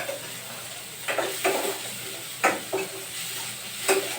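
Small onions and garlic frying in a pan, with a soft constant sizzle and a few distinct spatula scrapes and stirs at irregular intervals, close by with no talking.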